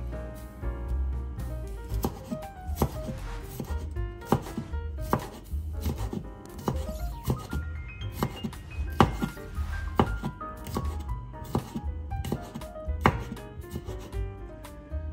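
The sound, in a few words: knife finely chopping a garlic clove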